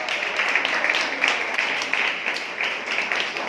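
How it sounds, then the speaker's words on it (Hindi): A quiz audience claps after a correct answer. The applause is steady and moderately close, lasts a few seconds with a brisk patter, and a voice can be faintly heard under it. "तालियां भी चाहिए इनके लिए।"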